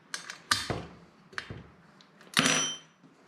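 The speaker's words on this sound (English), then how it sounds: "So let me quickly remove that barrel shroud clamp." A barrel shroud clamp is worked loose from a Saber Tactical rail, several sharp metallic clicks and clacks in an irregular sequence, ending with a longer scraping rattle, close and without talk.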